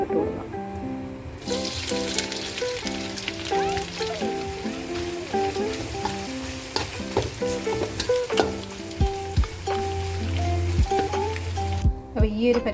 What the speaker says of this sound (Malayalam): ഓയിൽ ചൂടായി വന്നിട്ടുണ്ട്. ഇതിലേക്ക് നമുക്ക് നെത്തിലി ഇട്ട് കൊടുക്കാം.